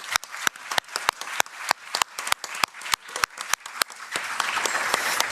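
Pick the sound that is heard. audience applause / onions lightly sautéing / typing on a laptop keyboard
audience applause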